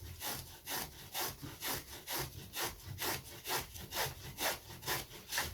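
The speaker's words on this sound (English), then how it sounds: "this is one of the best parts of balsa. It's just shaving and shaping it" Rhythmic back-and-forth shaving strokes on balsa wood while shaping a glider part, steady rasping scrapes about two per second, close and moderately loud with no talking.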